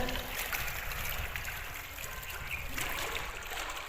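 Water running from a channel into a farm crop field, a soft, continuous outdoor rush and trickle at low level, with no speech heard.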